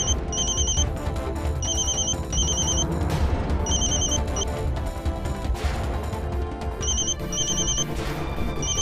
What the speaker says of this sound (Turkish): lütfen aç şu telefonu